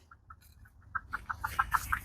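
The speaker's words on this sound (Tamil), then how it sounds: "இதில் எங்களுடைய கோழி" A backyard chicken in a home vegetable garden clucks in a quick, evenly spaced series of short calls that grow louder and denser toward the end.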